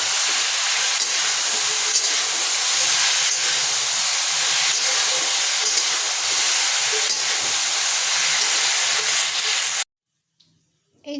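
Cauliflower florets fry in hot oil for a potato and cauliflower dish, giving a steady, loud broadband hiss and sizzle that runs unbroken for most of the time, then cuts to near silence just before the end.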